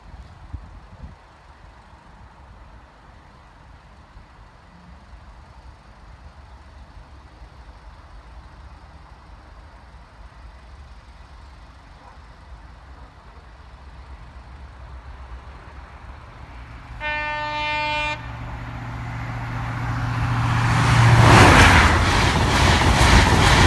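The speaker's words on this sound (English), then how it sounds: "this side's 1 Delta 18 from London to Leeds. Just coming around the corner now at Church Lane, under the bridge" Train 1D18, a London to Leeds service, passing Bathley level crossing by Church Lane in the dark: a distant rumble builds, a sharp horn blast sounds, then a loud roaring rush as it passes close.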